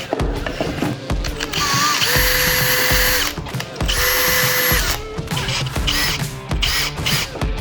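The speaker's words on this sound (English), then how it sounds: "This drill's fucked." A faulty electric drill whirs in two loud bursts of about a second and a half each, close by, between rattling clicks and handling noise.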